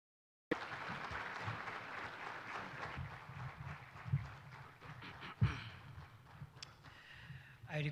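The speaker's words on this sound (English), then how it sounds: "Let us clap until he gets up on stage." An audience at a health science conference in Nairobi applauds steadily as the Deputy President of Kenya walks to the stage, a sustained, moderately distant clapping with a few louder thumps and faint murmurs.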